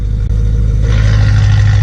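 A BMW E92 M3 with an Armytrix valved exhaust idles with the valves open, a loud, steady, deep burble close by with no other sounds.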